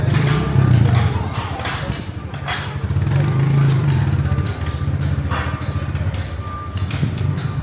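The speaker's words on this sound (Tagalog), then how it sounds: "Apa yung mga motor dire oh." Motocross motorcycles, including Honda and Yamaha team bikes, race at a final-leg event in Cagayan de Oro, their engines droning loudly and steadily with revving surges and a few thuds, while people talk faintly in the crowd.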